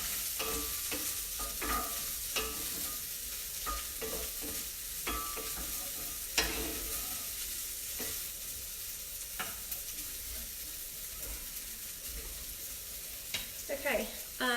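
Sausage and spinach pasta stirred in an Instant Pot, a steady wet scraping and sloshing with a soft sizzle underneath, repeated spoon strokes at close range and no talking.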